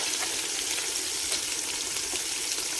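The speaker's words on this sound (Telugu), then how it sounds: "ఇది మంచిగా వేగాలి, బ్రౌనిష్ కలర్ వచ్చేంత వరకు వేగాలి" Food sizzles steadily in a pan while frying until brownish, a close, even crackling hiss with no break across the few seconds.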